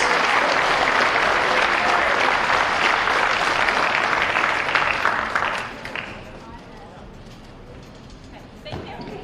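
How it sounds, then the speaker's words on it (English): Crowd in a high school gym applauds senior basketball players after a boys game, loud sustained clapping that fades out around six seconds, leaving quieter room noise and a brief sound near the end. "One more round of applause for our seniors"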